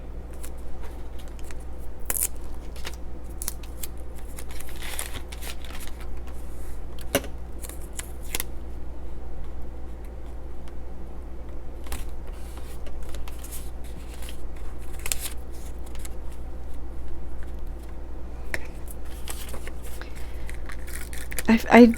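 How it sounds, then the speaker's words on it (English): Washi tape is handled and pressed into a traveler's notebook travel journal: scattered light crinkles, taps and brief tearing rustles over a steady low hum, close and fairly quiet. "let's stick with the same washi tape from the other page here"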